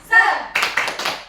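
A classroom of students doing an energizer clap: a voice calls out, then a few quick rhythmic bursts of group clapping follow close by.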